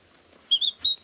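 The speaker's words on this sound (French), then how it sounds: "On entend au loin le pinson des arbres." A common chaffinch sings far off outdoors, giving three quick, high, thin whistled notes that stand out faintly above quiet background hush.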